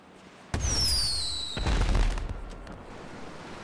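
Fireworks in GTA 5 launch with a sharp whistling rise and then burst into a loud booming crackle that fades into a rumbling tail.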